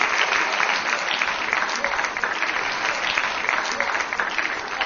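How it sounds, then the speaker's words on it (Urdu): An audience at a debate applauds in a steady, dense burst of clapping that runs loud and unbroken throughout. "بھائی زبردست کلیپنگ ہونی چاہیے"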